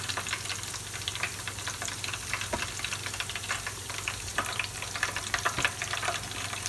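Filipino-style tempura fries in hot oil with a continuous close crackling sizzle and scattered sharp pops throughout.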